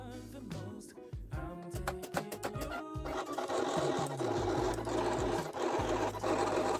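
A Silhouette Cameo 4 cutting machine running leatherette on a mat through a second pass with the blade set deeper, giving a busy mechanical whir with stepping motor tones and scraping, steady and close throughout.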